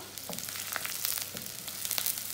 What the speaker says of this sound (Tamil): இதை போட்டுட்டு நல்லா வதக்கிடணும்